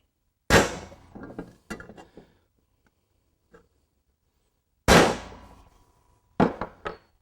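A small prick punch marks hole locations for an IMT Jac-Knife highway peg installation: sharp metallic taps ring out in two clusters, each a loud strike followed by a few lighter hits, with silence between.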